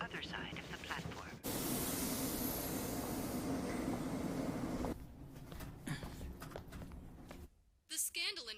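A train pulls into Yasogami terminal in Persona 4 Golden, with a loud, steady rolling rumble that swells suddenly and holds for several seconds before easing into quieter ambience.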